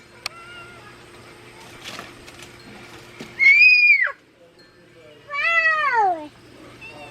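A house cat lets out two drawn-out, rising-then-falling meows close by, separated by a short pause, with a quiet background hum and faint rustling before the first call.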